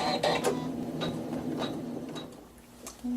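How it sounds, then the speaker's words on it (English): A computerized sewing machine sews a tack down stitch on quilting fabric, with a few sharp mechanical clicks and short whirring bursts spaced out over three seconds, close and fairly quiet, fading toward the end before a final pulse. "the machine will sew a tack down stitch"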